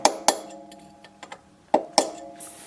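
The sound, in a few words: small hammer tapping in a roll pin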